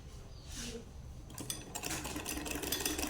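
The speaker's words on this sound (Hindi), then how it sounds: "इस तरह से सिलाई लेते हुए जाना है।" A sewing machine stitches a beginner's belted shalwar, starting with quiet handling and then breaking into a fast, rattling mechanical whir that runs steadily to the end, with no talk.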